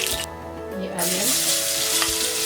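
Onions hit hot oil that already holds cumin and asafoetida, bursting into a loud, dense sizzle that stays steady and close, with a few faint clinks and no talking.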